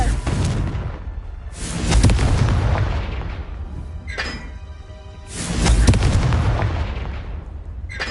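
Confringo blasting spell in Hogwarts Legacy, heavy booming explosions with loud low-end impacts, two big blasts each followed by a rumbling decay, with faint game sounds between them.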